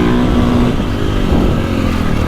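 A KTM 450 motocross bike's engine drones steadily while being ridden, a dense, continuous mid-pitched roar that stays loud and even throughout with no voices.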